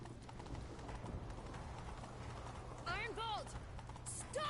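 Horse hooves clop at a steady trot in The Witcher 3, with a continuous rhythmic patter under other game effects and a few rising whistling chirps near the end.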